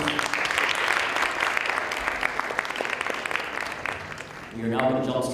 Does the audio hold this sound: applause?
yes